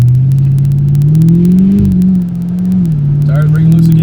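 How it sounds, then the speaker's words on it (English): A 2007 Mustang GT accelerates hard from inside the cabin, its engine drone rising steadily and dipping briefly as the tires break loose, loud and continuous throughout. "Tires breaking loose again."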